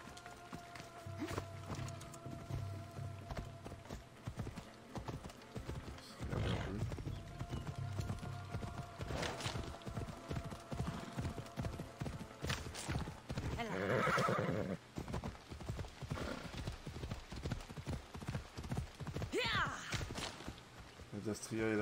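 Video game horse hooves clip-clop in a steady running rhythm throughout, in Assassin's Creed Odyssey, with a horse whinnying partway through and a voice talking over it.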